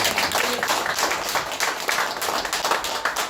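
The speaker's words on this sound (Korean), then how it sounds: "박수 한번 칩시다 우리." A room of attendees claps steadily at the close of the first Our Republican Party supreme council meeting after a general election, a dense and even round of applause lasting a few seconds.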